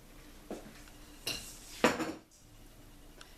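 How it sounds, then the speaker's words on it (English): A utensil clinks and scrapes against a bowl a few times while milk is stirred slowly into pumpkin pie filling, soft isolated knocks with quiet gaps between them. "I just kind of stir it around like that."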